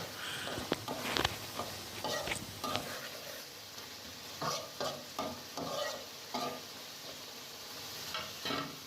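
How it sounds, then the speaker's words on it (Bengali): Katla fish curry with tomatoes is stirred in a pan, with repeated soft scraping and clattering strokes over a steady, quiet sizzle and no voices. "একটু নাড়াচাড়া করে দেওয়া হচ্ছে"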